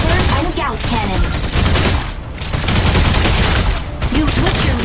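A mech in the online game Mecha Break unleashing Gauss cannon fire, a loud, dense barrage of rapid blasts and rumbling impacts that keeps going with brief lulls throughout.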